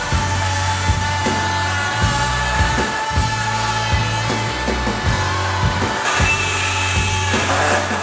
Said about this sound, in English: we're going to give the multi-tool a go with a new blade